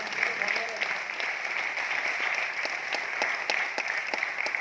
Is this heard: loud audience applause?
yes